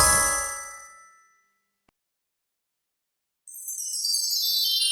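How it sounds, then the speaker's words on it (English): A bright shimmering magical swell fades into silence, then a rising airy whoosh sweeps in loudly near the end. "Genie magic sound effect."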